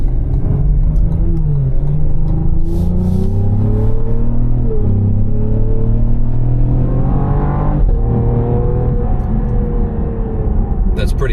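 A 2025 Cadillac CT5-V in V mode accelerates hard, its engine rising loud and close through rising revs with a gear change midway, then ends in a small exhaust pop. A voice talks over the roar.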